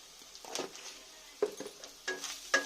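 Spices and salt being stir-fried in a pan, faint sizzling with a few separate clinks and scrapes of a spoon, quiet and close.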